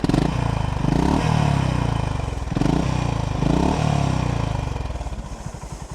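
Honda GB350S air-cooled single-cylinder four-stroke motorcycle engine, a loud close, deep thumping idle with steady pulsing firing beats that swell slightly in gentle revs.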